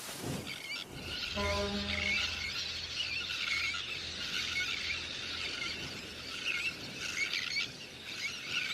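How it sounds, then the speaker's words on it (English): A breeding colony of little terns calls continuously in a dense, busy chorus of high-pitched squealing cries at steady loudness, with a brief low harmonic call near the start. "Just beyond the city, colonies of birds are breeding too."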